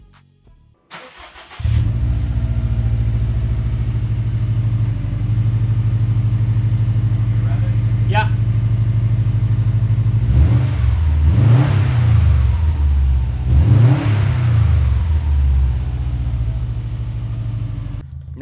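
Subaru WRX STI with a Remark axleback muffler fires up cold, settles into a loud steady idle, then gives two sharp throttle blips that rise and fall; a voice speaks briefly.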